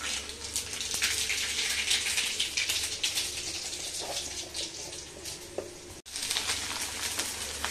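Cumin and mustard seeds sizzle and crackle steadily in hot oil in a home kitchen, a close, continuous frying hiss with scattered pops and a short break partway through.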